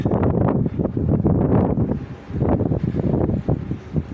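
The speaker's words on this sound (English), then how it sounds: "A little cold, a little windy, but it is November." Gusty wind on a November hilltop buffets the microphone in strong, uneven bursts, rumbling loudly with brief lulls between gusts.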